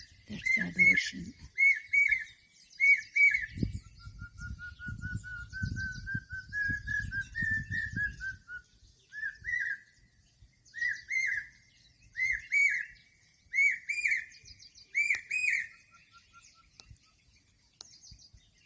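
Small birds calling and chirping in short repeated whistled phrases among several calls, with a soft rustling patch early on, fairly clear against quiet surroundings.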